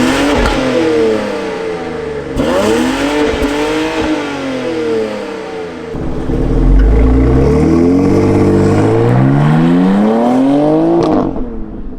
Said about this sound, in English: So that glorious sound is actually helped by this little button right here, because this vehicle has an active exhaust system